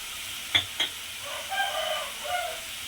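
Onions and green chillies frying in oil with a steady low sizzle, broken early by two sharp stirring clinks and later swelling into brighter crackling bursts.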